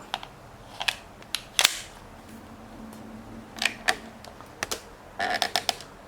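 Gas-powered Glock 19 airsoft pistol test-fired indoors, a run of sharp, dry clicking pops spaced irregularly, some in quick pairs and a rapid burst near the end, close and fairly loud with no talking.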